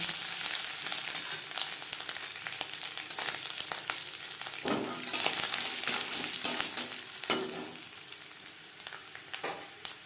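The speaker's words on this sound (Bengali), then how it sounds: "সবার প্রথমে আমি নারকেল ভেজে নেব" Coconut frying in a pan of oil for a vegetable chop filling, a dense steady sizzle close by with occasional sharp scrapes and clicks of a utensil against the pan, no talking.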